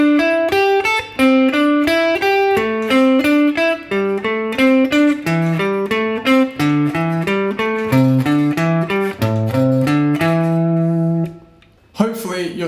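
Electric guitar runs a four-note pentatonic sequence pattern through a scale position, a steady stream of quick picked notes for about twelve seconds, ending with a brief pause and a final strum.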